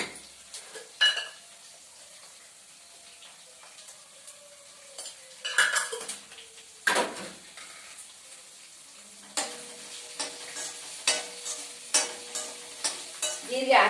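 Chillies and turmeric sizzle softly in a pan alongside garlic, with occasional sharp scrapes and clinks of a spoon stirring against the metal, quiet and close with no voices.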